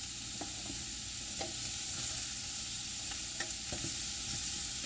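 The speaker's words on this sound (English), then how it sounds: "Just basically just letting it brown just a little bit. Saute them in there." Ingredients for seafood gumbo sautéing in a pan, a soft even sizzle underneath with scattered light utensil clicks and scrapes, close and without speech.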